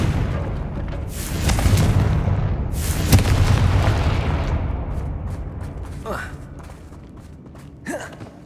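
A Confringo fire spell explodes in the Hogwarts Legacy video game, a loud rumbling blast that swells and holds for several seconds, with a character's voice over it and sharper bursts near the end.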